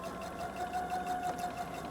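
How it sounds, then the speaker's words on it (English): A sewing machine stitches fabric along an outside fly, a steady, faint mechanical whir that runs alone and continuously. "I pivot and I sew like 2 or 3 stitches over"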